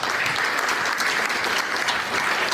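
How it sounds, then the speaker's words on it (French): A hall audience at a political gathering claps in dense, steady applause, sustained and fairly loud throughout without a break. "Je voudrais qu'on l'applaudisse."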